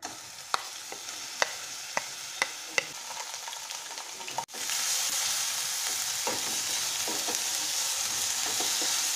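Crushed onion, ginger and garlic paste frying in hot oil for fritters, a few sharp taps of a spoon on the pan at first, then a loud, steady sizzle that swells midway and continues without talk.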